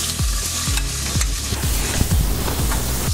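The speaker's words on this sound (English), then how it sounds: "First, we will put the olive oil, and we will put the prawns." Prawns sizzling in hot olive oil in a pan, a loud steady close-up crackle with repeated scraping strokes of stirring running through it, no voices.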